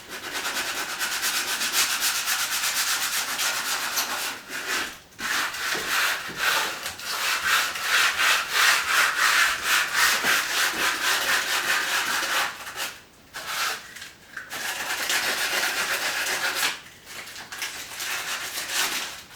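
Wood is sanded by hand, with no block, working into small nooks: a steady, close scratchy rubbing in rapid back-and-forth strokes, broken by a few brief pauses.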